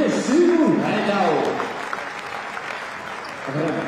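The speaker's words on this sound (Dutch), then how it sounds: "We hebben een speciale applaus voor Chris Simon Heidau." Crowd applause fills a basketball arena during a FIBA Europe Cup game between Heroes Den Bosch and BC Kalev/Cramo, steady and sustained throughout, with an announcer's voice over it at the start.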